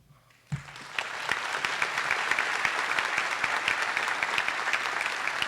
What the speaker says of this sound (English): you should all be applauded